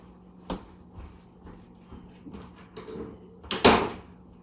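A kitchen door opens and closes in a home, giving a few soft knocks and thumps followed by a sharper, louder bang near the end, with no one talking.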